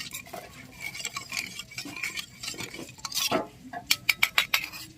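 A spoon stirs and mixes village chicken in a pot, scraping and clattering unevenly, then ends in a quick run of sharp metallic clinks against the rim.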